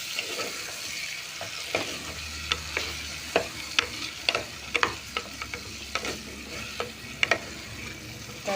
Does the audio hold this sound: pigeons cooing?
no